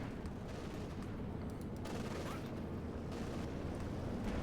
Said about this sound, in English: More P-47 rocket hits.